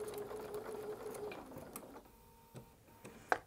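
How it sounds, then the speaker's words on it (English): A domestic sewing machine stitching fabric pieces together during chain piecing, with a steady close whirring run of stitches that stops partway, followed by a few clicks and one sharp mechanical clack. "I'm going to just stitch coming off of this little scrap of fabric by one or two stitches."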